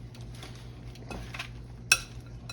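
Caesar salad with croutons tossed in a bowl: soft, sparse rustling and light utensil clinks, quiet and close, ending with one sharper clink.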